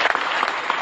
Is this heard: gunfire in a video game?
no